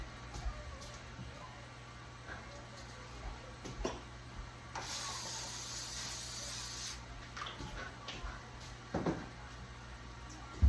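A short, steady hiss of cooking spray into a cake pan lasting about two seconds, set among quiet kitchen handling noises and light clatter.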